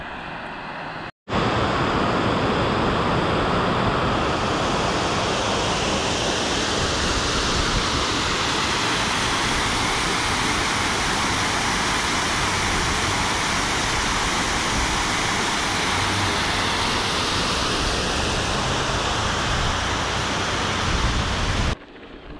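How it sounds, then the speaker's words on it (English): Gordon Creek Falls, a waterfall running muddy with runoff, roars loudly and steadily for about twenty seconds, a dense unbroken rush of falling water with no one talking. "That Gordon Creek Falls is pretty cool."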